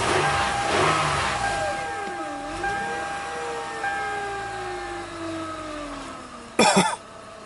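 A Toyota Highlander with almost 200,000 miles, running on a boost pack, cranks and catches briefly, its engine tone sliding down as it falters and stalls, with a sharp burst of noise near the end.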